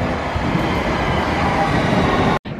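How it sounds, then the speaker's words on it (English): A London Underground train rumbles along heading back to St. Pancras, a dense, steady roar of wheels and motors from inside the carriage that cuts out abruptly near the end. "Underground trains back to Pancras"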